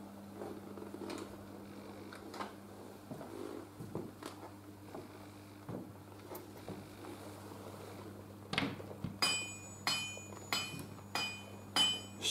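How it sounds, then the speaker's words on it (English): A hammer striking in a shipyard soundscape by the River Lagan in Belfast: scattered single blows over a steady low hum, then a quicker run of sharp, ringing strikes near the end, moderately close. "Sound of a hammer."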